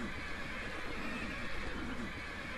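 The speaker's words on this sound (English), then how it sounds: "The horses are going proper nuts." Wild horses in Minecraft whinnying and neighing in a dark enclosure, a faint, restless stretch of repeated calls with soft background clatter.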